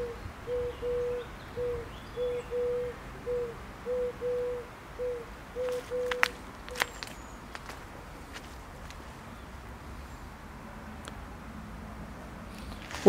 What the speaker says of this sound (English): And we can hear a pigeon calling there, wood pigeon.